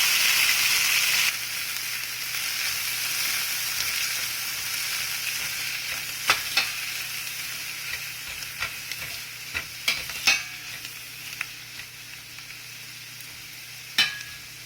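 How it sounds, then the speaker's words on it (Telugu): Coriander leaves fry in hot oil while being stirred, a steady soft sizzle with occasional clinks and scrapes of the spoon against the pan, close and alone with no talk. "మనకి కొత్తిమీర ఫ్రై అవ్వడానికి ఒక రెండు నిమిషాలు టైం పడుతుంది"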